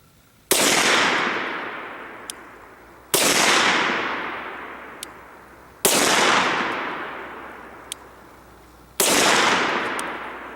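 Four loud, close gunshots spaced a few seconds apart, each a sharp crack with a long ringing decay, fired at targets from 7 feet outdoors.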